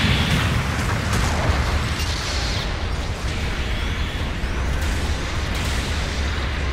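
A mobile suit blows up in the Gundam Breaker 2 video game, with the Jesta in play: a loud, steady roar of booms and bursting debris that fills the whole stretch without letting up.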